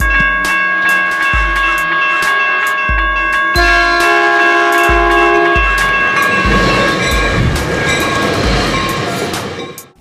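A passenger train rides the rails with loud, regular clickety-clack beats from the wheels over rail joints, backed by a steady rumble and sustained tonal hums, running close and continuous before cutting off at the end.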